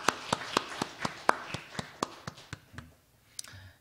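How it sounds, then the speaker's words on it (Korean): Church congregation clapping for ordained deacons during a Korean Presbyterian Sunday afternoon service. Evenly spaced, rhythmic claps come at about four per second, then taper off and fade. The sound is fairly faint and slightly distant, with a brief stray sound after it stops. "이 박수는 더 잘하시라는 격려의 박수이니"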